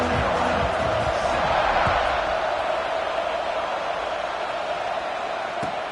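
A football stadium crowd at an NCAA game just before kickoff makes a steady, loud, broad roar that continues without a break.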